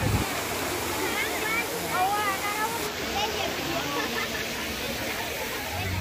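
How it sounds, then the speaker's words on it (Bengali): A decorative fountain at Eco Park in Kolkata splashes in a steady broadband wash of falling water, with a faint murmur of people talking in the background. "হাঁটতে হাঁটতে কিছুটা সামনে আসলেই সামনে পড়বে এই একটি সুন্দর ঝর্ণা"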